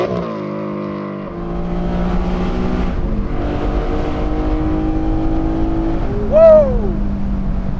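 Heard from the cabin, a Porsche 718 Spyder with a naturally aspirated 4.5-litre, 565 hp engine accelerates in loud exhaust mode, its tone climbing steadily through the gears in long sustained pulls, then a sharp rising rev near the end.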